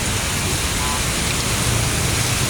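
A heavy rain shower pours down beside a very high overpass, a loud, dense, constant hiss filling the whole moment with no break.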